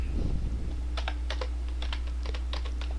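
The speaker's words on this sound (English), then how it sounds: "then simply type Susan" Typing on a computer keyboard: a quick run of about a dozen crisp, close key clicks over a steady low hum, with no talking.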